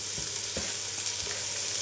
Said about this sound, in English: And then we're now going to chuck the garlic in